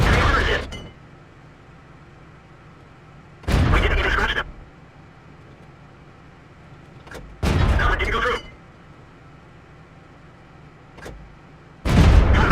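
Tank cannon fire from a T54 First Prototype in World of Tanks: four loud, broad booms at spaced intervals, each ringing briefly before fading into a low engine hum.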